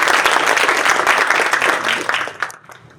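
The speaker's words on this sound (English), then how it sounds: "let's begin our evening with a round of applause for our chairman, sir" A dense round of audience applause for the chairman opens an evening business gathering of the ICAI Singapore chapter, many hands clapping steadily and loudly before tapering off and fading near the end, with no speech over it.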